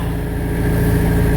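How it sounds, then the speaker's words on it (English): A Pleasure Way Class B camper van engine runs steadily at idle, a close, continuous low mechanical drone with even rumble and no voices. "I have that engine running and looking for oil leaks."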